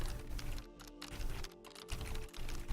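A computer keyboard is struck at random, making fast, uneven bursts of clacking keystrokes close by with short pauses between flurries.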